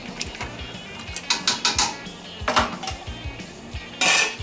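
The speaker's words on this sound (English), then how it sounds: "Give it a stir" Mexican meatball soup stirred in a pot, a spoon knocking and scraping against the pot in a handful of clustered clinks, close and moderately loud, with no talking.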